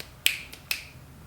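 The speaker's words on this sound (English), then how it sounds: "Snap." Two crisp finger snaps, sharp and close, spaced about half a second apart against a quiet background.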